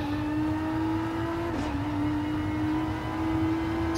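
Renault RS01 '16 Group X race car in Gran Turismo Sport, a steady droning engine note held at near-constant pitch with a brief dip midway, no talking over it.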